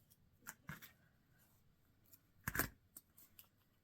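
Scissors snipping upcycled paper while making magnetic bookmarks, a few sharp close cuts in irregular bursts separated by quiet handling rustles, the loudest snip coming near the end.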